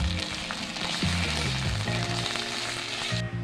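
Bottle gourd peel frying in a pan: a close sizzle runs throughout beneath a strong tonal hum whose pitch steps up and down.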